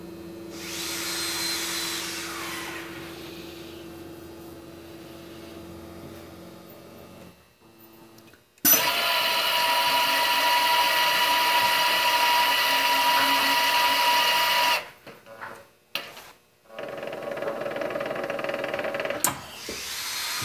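A woodworking shaper cuts a long tenon, a loud, sustained high whine lasting about six seconds, with motor hum before it and brief bursts of machine noise afterward.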